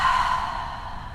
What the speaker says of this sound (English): we'll take a cleansing breath first. We'll breathe in together